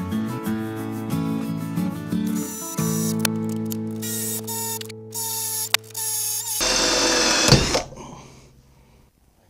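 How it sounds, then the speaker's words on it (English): A power drill whines with a strong steady pitch, stopping and restarting a few times, then one harsher grinding burst before it winds down. "Alright, let's drill that out."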